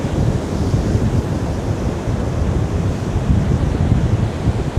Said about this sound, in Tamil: நல்ல காற்று விசு விசு விசு விசு விசுன்னு அடிக்குது